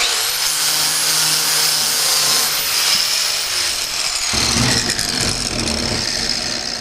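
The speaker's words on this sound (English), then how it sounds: "With a very light use of the flap disc on the grinder, it'll come right off." An angle grinder fitted with a flap disc abrades chrome plating off a Harley sprocket guard metal tab, giving a loud, steady whirring grind that shifts in tone partway through as the disc bites harder.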